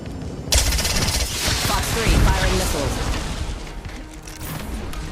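Rapid automatic gunfire and exchanges of shots during an Apex Legends match with Valkyrie, loud and dense for several seconds, with someone talking over the shooting.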